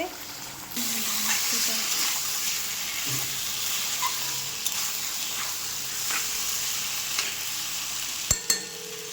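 Curry fries in a pan while being stirred: a steady close sizzle runs throughout, with scraping stirs and a couple of sharp knocks of the utensil against the pan near the end.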